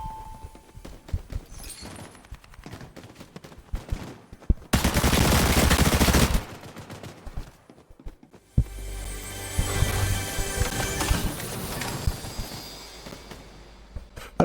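Rapid, loud gunfire bursts from a shotgun in the Fortnite video game, one dense blast around the middle and a longer stretch of repeated firing later, over busy game sounds with no talking.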